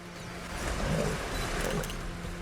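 Lions fighting beside a river: a continuous, loud, rough roaring and growling that swells and churns, with splashing and thrashing mixed in.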